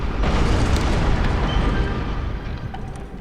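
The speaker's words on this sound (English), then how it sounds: "a type of cannon that fires with a curved trajectory and creates an explosion upon impact" A church cannon in Bloodborne goes off with a heavy, roaring blast that fills the clip and slowly fades over a few seconds, loud and close, with no voices.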